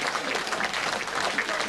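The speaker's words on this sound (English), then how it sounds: "And the crowd generous in their applause" Crowd applauding at a 1987 Arthur Dunn Cup Final football match between Old Reptonians and Old Cholmeleians, a steady wash of clapping from many spectators, moderately loud and unbroken.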